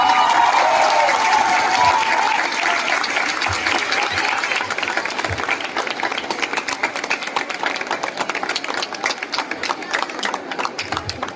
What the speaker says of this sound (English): parents, you all should stand and clap for them